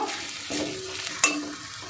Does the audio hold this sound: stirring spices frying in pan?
yes